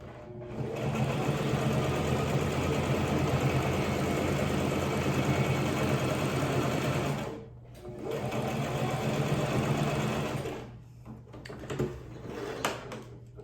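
A sewing machine runs a straight stitch in steady, loud, continuous bursts, pausing briefly partway through and then stopping, with a few soft handling clicks at the end.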